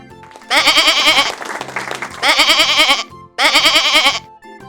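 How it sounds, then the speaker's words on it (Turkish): A goat bleats three times in loud, quavering bursts, separated by short gaps filled with quieter background noise and a faint low hum. "Keçi."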